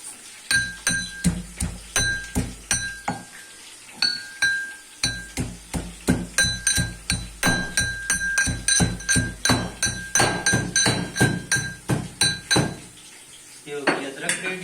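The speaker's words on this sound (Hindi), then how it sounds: "तब तक हम अदरक पीस लेते हैं" Ginger is crushed with a pestle in a rapid run of sharp metallic pounding strikes, loud and close, with ringing clinks over about fifteen seconds and a brief pause midway.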